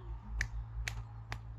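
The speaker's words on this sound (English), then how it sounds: "Can you snap your fingers?" Three crisp finger snaps, evenly spaced about half a second apart, sound close and clear over a soft low background hum.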